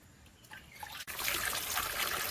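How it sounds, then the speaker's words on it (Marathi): Soft trickling and splashing of clean water as mushrooms are rinsed, brief quiet handling first, then a fuller continuous rush of water close by. "ही आधी स्वच्छ पाण्यात धुवून घेऊ तर मी ही अळमी धुवून घेते"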